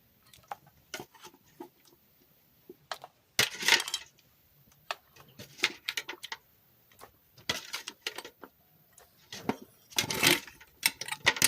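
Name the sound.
pork ribs being added to a pot of mole verde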